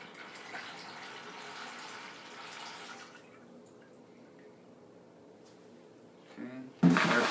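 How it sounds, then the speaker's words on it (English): A liquid base pours into a chemical solution in a laboratory, a soft steady wash of pouring and dripping followed by a sudden louder splash near the end, close and with no talk. "we're ready to add the base to it. And this has to be done carefully to avoid splashing"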